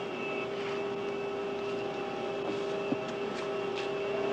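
A small airplane in flight is heard from inside the cabin, a steady droning engine hum with a constant tonal whine, continuous and even throughout with no voices.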